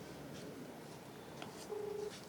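A telephone dials, short electronic tones stepping along in a quiet indoor space with faint background noise and no talk.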